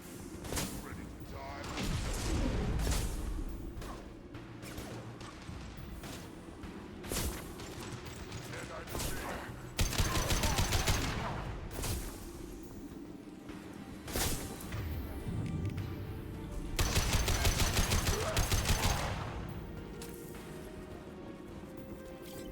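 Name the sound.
gunfire with armor-piercing bullets in video game Mass Effect 2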